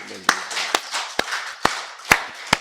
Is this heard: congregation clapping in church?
yes